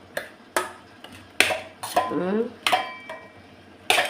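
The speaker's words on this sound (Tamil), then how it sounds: "நல்லெண்ணெய் ஊற்றிக்கிறேன். ஊற்றி மிக்ஸ் பண்ணி விட்டுக்கிறேன்." Hot rice is mixed with sesame oil in a metal vessel, a run of sharp clinks and scrapes in an uneven rhythm, close and fairly loud, with no voices.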